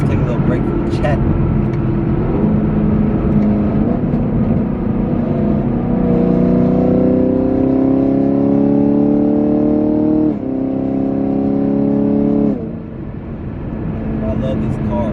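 A Chevrolet Camaro SS engine hums steadily while driving, rising through smooth revs as it accelerates before easing off, close and loud from inside the car, with someone talking over it.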